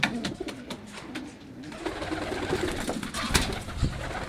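Female pigeons coo softly in a loft, overlapping low throaty calls mixed with wing flutters and scratchy movement close by.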